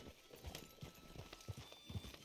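Faint video game horse hooves clip-clop at a slow, uneven walking pace in Red Dead Online, distant and quiet against a soft background.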